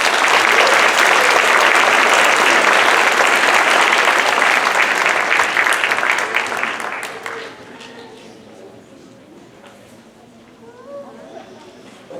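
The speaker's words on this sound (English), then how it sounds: "Please give them a big round of applause." A crowd at an elementary school awards ceremony applauds loudly and steadily for about seven seconds, then the clapping dies away into quiet room murmur and a few voices.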